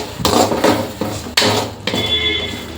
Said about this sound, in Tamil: அரைச்சி வச்சுருக்க கருவேப்பிலை வந்து இதில் வந்து ஊற்றிடணும் ஊற்றி நல்லா வந்து மிக்ஸ் பண்ணிடணும்